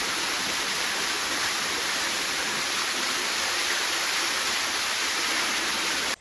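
Steady, dense roar of a waterfall on the Karnataka coast near Udupi, a continuous rushing wash of falling water heard close and loud without any break.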